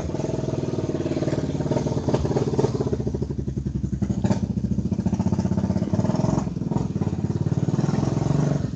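A motorbike engine runs steadily close by, its throbbing note pulsing evenly with slight rises and dips in revs, continuous and loud with no talk over it.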